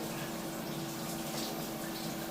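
Steady rush of running water while a dog is being washed, continuous and close with no breaks across the short span.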